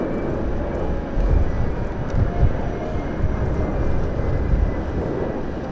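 Embraer 190 jet airliner flying over toward London City, a broad low roar that swells and fades gently at moderate distance.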